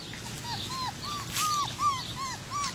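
An Akita puppy whimpers outdoors in a run of short, high, whining cries, about six in quick succession, close and clear over a soft background hiss.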